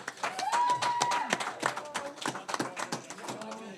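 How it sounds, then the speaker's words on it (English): Audience at an anime convention live podcast taping gives a round of applause, a dense wash of claps with a few cheers and voices mixed in, fairly close and steady throughout. "a round of applause"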